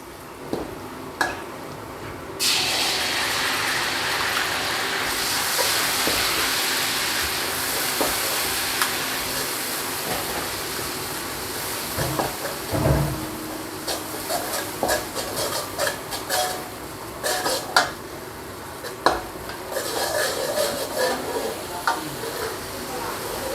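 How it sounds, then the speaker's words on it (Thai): Fermented soybean paste stir-fried after garlic in a hot wok while cooking rad na with pork, a steady loud sizzle under scraping and clanking spatula strokes throughout. "ต้องผัดเต้าเจี้ยวให้สุกก่อน"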